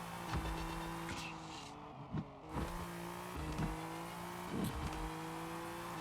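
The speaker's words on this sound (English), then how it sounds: "The car sounds aren't great." Video-game engine of a roughly 610-horsepower V8 rally car in DRIVE Rally, a steady droning rev with repeated sharp surges and drops as it shifts and accelerates, loud and continuous, with no talking.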